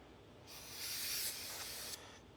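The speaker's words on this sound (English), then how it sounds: "Brake cleaner." Brake cleaner sprays from an aerosol can on a BMX bike build, giving one steady, close hiss that lasts about a second and a half, then cuts off cleanly.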